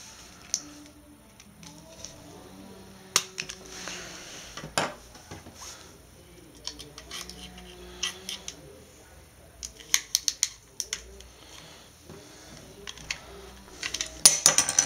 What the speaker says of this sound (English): Start off with the screwdriver first.